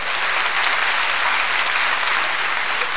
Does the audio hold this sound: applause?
yes